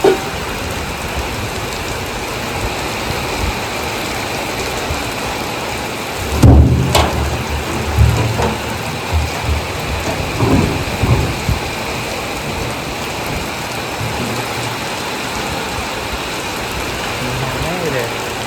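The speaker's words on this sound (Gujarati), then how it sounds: "વરસાદ ચાલુ થઈ ગયો." Steady heavy rain falls over a village in Botad, with a loud thunderclap crashing midway and lower rumbles rolling on after it.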